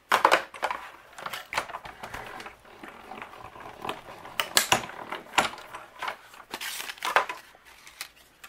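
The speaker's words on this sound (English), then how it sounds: "Now I'm also gonna take a piece of white cardstock and die cut out" A die-cutting machine rolls a metal die through white cardstock, giving a close run of mechanical clicks, rattles and grinding crunches that repeat irregularly over several seconds, with no voices.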